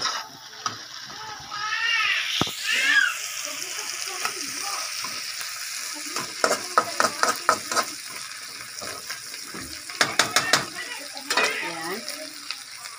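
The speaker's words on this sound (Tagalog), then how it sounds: "ilagay na natin yung ating hipon" Shrimp hit a hot pan of seafood paella, giving a steady sizzle and frying hiss broken by clattering stirring and utensil scrapes against the pan, with a person speaking over it.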